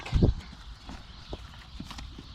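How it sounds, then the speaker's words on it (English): A big horse at a horse rescue center in Spain walks with clip-clopping hooves, a heavy thump at the start followed by softer, irregular hoof steps nearby. "It's Diplomat, Big horse."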